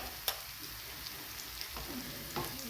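Chilli, turmeric and salt are stirred in a hot pan for a quick tomato chutney, a faint, even sizzle with a few soft spoon taps and scrapes.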